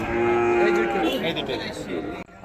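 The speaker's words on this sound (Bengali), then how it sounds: "এইগুলো কিন্তু নেপালি গরু" A Nepali cow at the Beldanga market lets out one long, loud moo close by, holding a steady low tone before it trails off.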